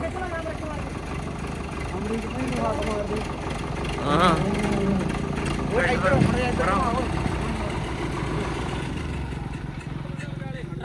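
A tractor's diesel engine chugs steadily throughout, with people talking loudly over it on a jammed road and the motor swelling slightly in the middle.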